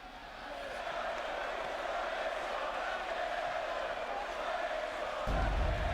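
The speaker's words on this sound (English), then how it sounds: "the crowd is chanting, Wyatt's gonna kill him." Wrestling crowd in a WCW video game chanting together as a steady, dense roar of massed voices, holding level for several seconds before swelling louder near the end.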